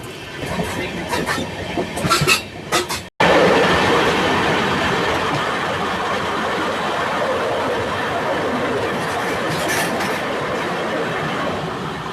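The Ratnachal Express with new LHB coaches runs near Nidadavolu, its loud, steady rumble and wheel clatter filling the clip after a brief cut, with faint talk early on.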